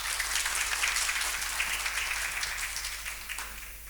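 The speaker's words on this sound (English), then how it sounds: "Please give them a round of applause." Audience at a panel discussion on African vaccine production in Kenya applauds, a dense round of clapping that stays loud and gradually tapers off.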